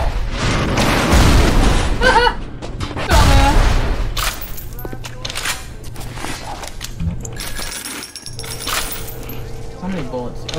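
A pistol fires repeatedly in the Bioshock video game, with sharp bursts, clinks and booms layered through a busy combat soundtrack. A voice talks over part of it.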